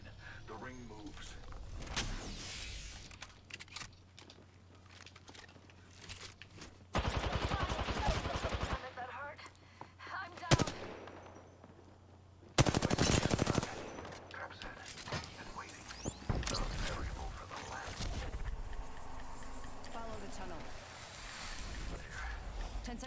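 Rapid bursts of automatic gunfire in the Apex Legends battle royale game, with a long rattling volley and a second short loud burst, scattered shots and other game sounds throughout, and game voice cues in between.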